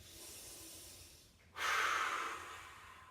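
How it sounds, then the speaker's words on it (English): A deep breath, a soft airy inhale followed by a louder, fuller exhale, taken alone and close during a slow rib-cage and belly breathing exercise, with no talking. "I'm going to take 3 to 5 deep breaths"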